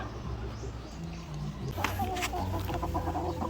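White Leghorn crossed with Black Australorp chickens clucking nearby, with short repeated clucks that grow busier partway through, over a low background hum.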